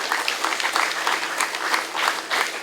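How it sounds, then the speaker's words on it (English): An audience at a grand opening event claps steadily and fairly loudly throughout, a dense wash of hands with no voices over it. "A round of applause for Greg for even choosing to be here."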